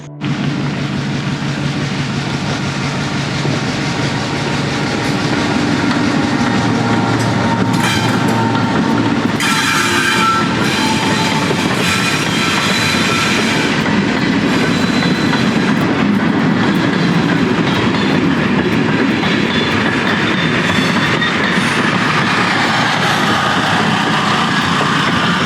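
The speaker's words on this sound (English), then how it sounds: "I hear this train coming. Sounds like it's catching up to me here." Train rolling slowly past on tracks beside a rail trail, a loud, close, continuous rumble with rhythmic clickety-clack of wheels and occasional faint squeals, steady throughout with no voices.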